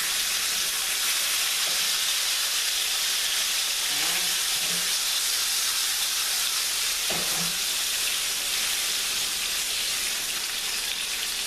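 Thin pork chops frying in a pan for Southern fried pork chops, a steady close hiss and sizzle throughout, with a few soft clinks of a utensil.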